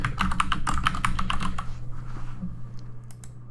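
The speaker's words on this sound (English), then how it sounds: "I'm just going to type in latest blog posts" Rapid keystrokes on a computer keyboard entering a short heading in a web form builder, a quick run of close, crisp clicks over the first second and a half, then a few scattered taps.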